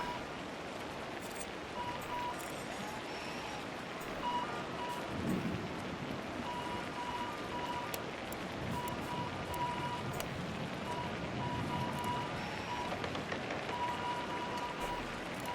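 Rain falling in the SimAirport airport management game, a steady soft hiss of rainfall lasting throughout at an even, moderate level with no talking.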